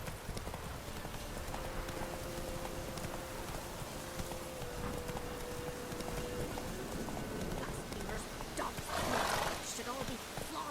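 Horse galloping in Witcher 3 Wild Hunt, a rapid continuous clip-clop of hooves with a brief whinny, fairly quiet, with character voices speaking over it.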